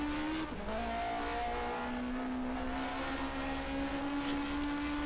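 A 1979 DRM Division 2 race car, including a BMW, drives through a chicane at the Jim Clark race, its engine a steady droning note that shifts pitch as it changes gear, close and continuous with no voices.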